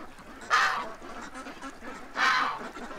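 Two loud, honking duck calls ring out close by, about a second and a half apart, over steady outdoor background noise.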